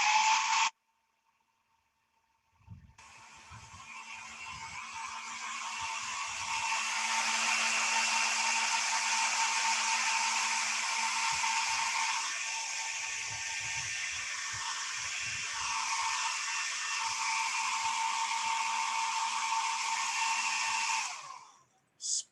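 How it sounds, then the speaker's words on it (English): A hair dryer blows on a watercolor painting, switching on after a short pause and running as a loud, steady whooshing roar for nearly twenty seconds before cutting off. "I'm going to hit it with a blow dryer just to."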